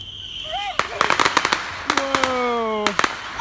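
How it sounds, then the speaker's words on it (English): Firecrackers and smoke bombs set off in a crack at a zoo for an Independence Day celebration, giving a scattered series of sharp pops and crackles, with a whistling tone and voices talking throughout. "Yeah. Time for smoke bombs."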